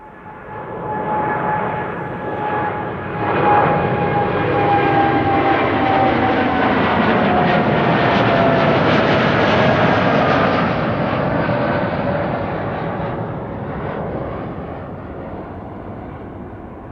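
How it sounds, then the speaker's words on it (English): An Airbus A330 airliner at Amsterdam Schiphol Airport, its jet engines swelling into a loud, sustained roar with a whining tone that slowly drifts down, then fading gradually as the aircraft moves away. "A330s are coming"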